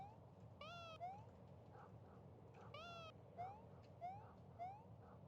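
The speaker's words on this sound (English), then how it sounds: "Cat." A video game cat meows several times, short rising calls in two quick bursts followed by three single meows, clear against a low steady background rumble.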